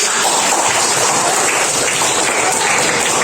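A classroom of pupils claps together in a sustained, dense burst of applause that fills the whole stretch evenly, close and loud, with voices mixed into the noise.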